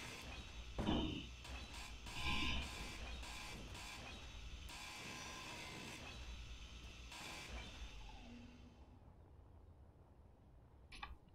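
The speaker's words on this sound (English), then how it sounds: "Let's weld this up." Blocks are welded in the modded survival game Space Engineers: a steady mechanical hiss and hum with a few louder surges, which stops near the end and leaves near silence and a final click.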